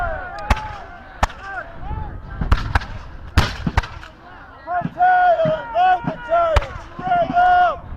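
Musket fire at a War of 1812 battle reenactment at Fort Erie, sharp irregular gunshots cracking near and far while commanders shout orders between the reports.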